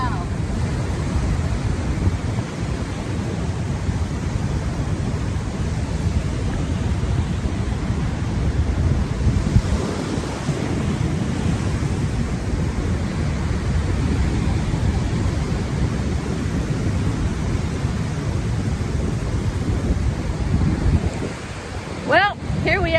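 Heavy ocean surf, with sets of waves around eight feet, rolls in at Kirra Beach near Coolangatta, Queensland, as a continuous broad roar mixed with wind buffeting the microphone, loud and steady throughout.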